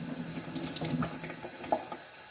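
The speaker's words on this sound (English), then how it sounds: "So we're going to have a little bit of water running right there." Water runs steadily from a sink tap during handwashing, a continuous hiss with a few soft splashes as hands move under the stream, fairly quiet and without talk.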